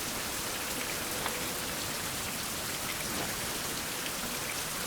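Steady rain falls in a survival video game, a dense, even hiss of drops pattering on surfaces with no pauses or voices.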